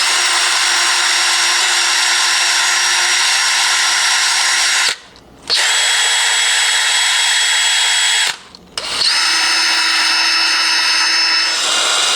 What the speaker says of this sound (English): taking a wire brush, just cleaning all this crud off